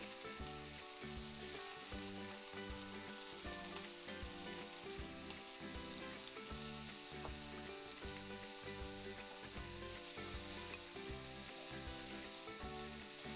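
Raw shrimp sizzle in a skillet after the flame has been shut off. The frying is loud and continuous, with crackling oil and pops, and a few soft stirring or placement sounds run through it, with no one speaking.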